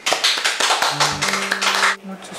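A short burst of hand clapping, several quick claps close by, with a brief low hum near the end.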